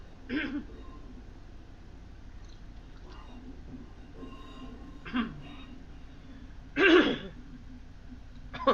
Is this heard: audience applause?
no